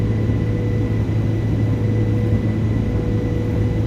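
Airbus A330-300 engines at takeoff power in Microsoft Flight Simulator 2024 roar steadily with a low hum and a constant whining tone, loud and unbroken for a few seconds, no talk.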